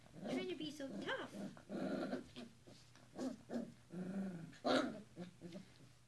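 A corgi puppy growls in short, rough bursts while tugging and playing tough, close by, mixed with a person talking to it.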